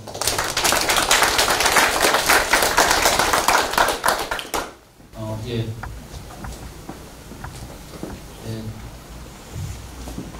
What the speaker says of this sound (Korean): 큰 박수로 청해 주시기 바랍니다